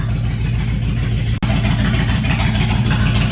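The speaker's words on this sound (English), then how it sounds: "the bike is running with no choke now" A carbureted motorcycle engine idles steadily while warming up with the choke off, a loud close rumble with an even pulsing beat and a brief dropout partway through.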